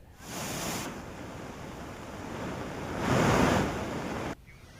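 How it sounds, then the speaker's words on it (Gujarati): Flood water from continuous heavy rain rushes loudly in a steady broadband roar, swelling stronger near the end before cutting off abruptly. "જળાશયોમાં પણ સતત પાણીનો પ્રવાહ વધી રહ્યો છે"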